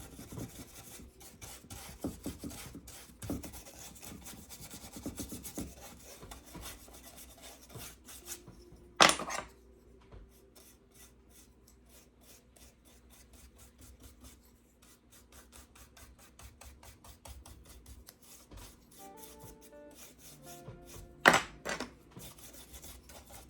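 A wax brush scrubs and rubs clear wax across thrifted wooden shutters. The strokes are soft and rhythmic, with a couple of sharper knocks, close but quiet, and no talking.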